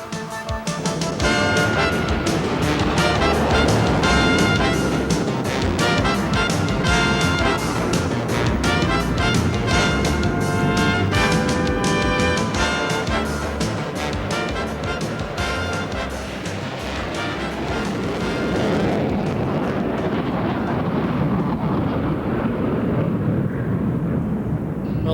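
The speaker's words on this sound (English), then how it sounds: "with the thunder of afterburners echoing through snow-laden valleys" US Air Force jet afterburners thundering through snowy valleys, a loud, sustained roar with a rough crackling texture that swells, dips slightly midway and rolls on as a distant rumble.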